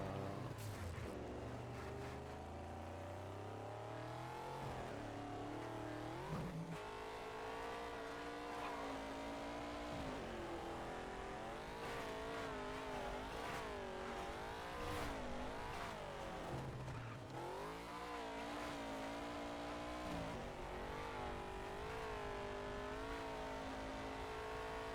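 Racing truck engine in a driving video game, a continuous loud drone that revs up and down through gear changes with tire squeals, running throughout with no talk.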